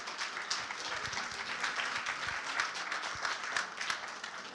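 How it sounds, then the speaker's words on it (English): Applause from an audience at a hurricane awareness fair, fairly distant and moderate in level, with scattered individual claps over a steady patter. "Let's give him a big round of applause."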